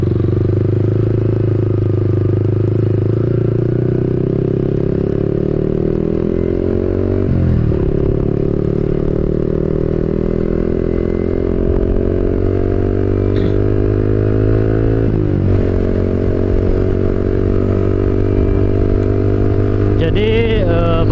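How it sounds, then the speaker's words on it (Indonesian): A Yamaha R15 V4 motorcycle is ridden on the road, its engine droning steadily close to the mic with a few rising revs as it shifts, under constant wind rumble. "Yamaha R15 V4 ini juga, dia hampir mirip sama yang V3 guys."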